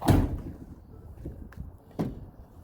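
A Ford Transit van's sliding side door closes with a heavy thud, then a softer knock and a second solid clunk as the lock engages, close by with no talk.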